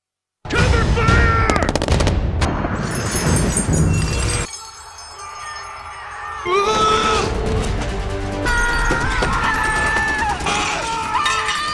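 Chaotic gunfire and explosive clatter in a Transformers movie battle, with dense bursts of shots, metallic clinks and crashes, a quieter lull, then renewed loud action.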